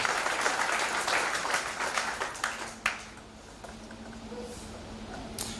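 A church congregation at a Sunday service applauds and cheers for Jesus, a dense wash of clapping that fades after a few seconds into a quieter room with scattered claps.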